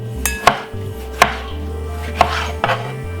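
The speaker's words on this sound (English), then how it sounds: "I'm just gonna cut it up and put it also inside of it" A knife chops leftover green pepper on a cutting board for a green salad, four or five distinct, well-spaced thuds under a low background hum.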